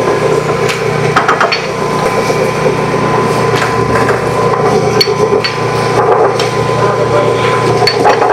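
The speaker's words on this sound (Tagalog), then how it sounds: "Tapos ito na po, gigilingin na po. Ayun. Ginigiling naman siya ngayon." A machine grinds boiled, peeled ube yam, giving a loud, continuous mechanical churn with irregular knocking and crunching throughout.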